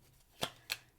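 Tarot cards being shuffled in two quick, close riffles, each a brief crisp burst of rustling, with quiet in between and no talking.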